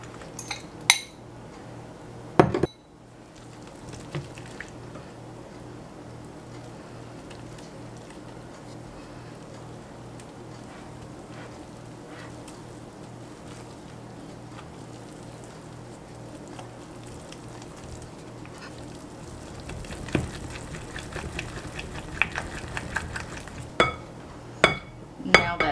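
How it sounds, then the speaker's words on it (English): Pancake batter is mixed by combining the wet and dry ingredients in a bowl, giving soft, steady scraping and stirring with occasional clinks of a utensil against the bowl, a few louder knocks near the start and more clatter toward the end. "Now we're just going to add in our wet ingredients to our dry ingredients."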